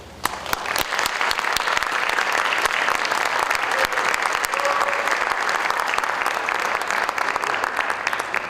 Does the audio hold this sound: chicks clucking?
no